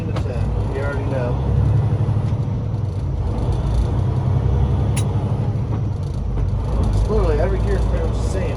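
A truck engine with an Eaton 10-speed transmission rumbles steadily as gears are floated, a deep continuous drone under someone talking throughout, close and fairly loud with faint clunks and shifts in tone.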